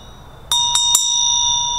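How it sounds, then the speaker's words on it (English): A mindfulness bell rings with three quick bright metallic strikes, and the clear tone then sustains and slowly fades, ringing alone in a quiet room. "Sometimes when they hear the bell"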